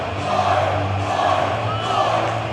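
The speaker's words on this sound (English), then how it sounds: "Listen to this crowd." A wrestling crowd at an All Pro Wrestling show roaring steadily at a wrestling tag team's arrival, a dense continuous wash of cheering and shouting filling the hall, loud and sustained without breaks.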